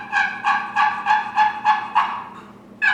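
A wooden turkey box call worked with small hand movements, rolling out a fast gobble of seven quick, evenly spaced clucking bursts over a couple of seconds, close and clear with no talk.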